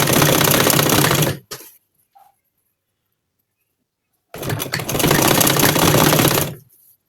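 A sewing machine stitches a curved scallop edge on a double-folded kurti, running in two loud, steady whirring bursts separated by a few seconds of silence.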